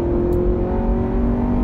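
Honda Civic Type R FN2 with its VTEC engine pulling hard in third gear, heard from inside the cabin as a loud, steady, continuous engine drone with a slightly rising pitch throughout.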